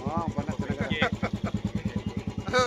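A motorcycle engine idling with a strong, regular low chugging pulse that runs steadily throughout, close by, with people speaking briefly over it.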